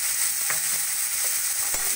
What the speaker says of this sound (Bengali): ফুলকপি আর শিম ভাজা ভাজা করে নিয়ে